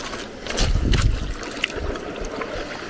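Hands splash and stir in icy mountain stream water near Lillianes in the Aosta Valley, a close, steady trickling and sloshing with a few sharper splashes.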